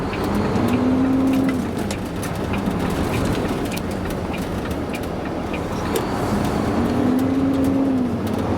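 Car interior during a road test, with steady engine and road rumble and a couple of rising whines as the car pulls away and turns on a green arrow.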